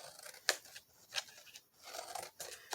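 Scissors snip through tumbler-crafting material in a few short, close, crisp cuts separated by quiet rustling.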